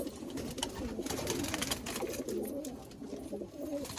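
Punjabi Malwai pigeons coo softly in a loft, a faint, steady murmur of low cooing with some background noise.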